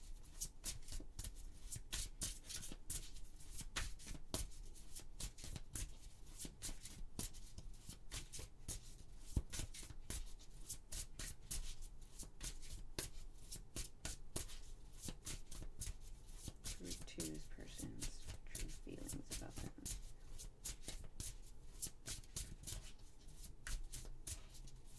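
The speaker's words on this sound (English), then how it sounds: "Gosh, the shuffling." Tarot cards shuffled by hand for a reading, a dense, continuous riffling and sliding that keeps on for a long stretch at a steady level, with only brief hesitations.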